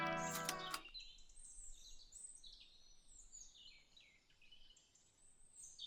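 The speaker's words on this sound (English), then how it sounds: "Let's be really quiet and listen to the bird song." Bird calls chirp in a wooded setting as ambient sound for a role-playing game: a brief loud burst at the start gives way to faint, scattered high chirps and warbles over quiet background hiss.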